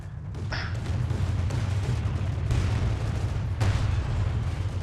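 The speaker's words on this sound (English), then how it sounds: "The relentless barrage continues from the artillery" Artillery barrage in Company of Heroes 2, a dense rumbling roar of continuous distant shelling with a couple of sharper bursts standing out.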